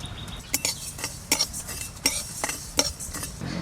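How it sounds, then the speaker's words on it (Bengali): Coriander, fennel and cumin seeds dry-roasted in a pan, with a spatula scraping and clinking against the metal in irregular strokes and a soft rustle between them, close by with no talking. "ধনে, মৌরি আর জিরেটা ভেজে নেব"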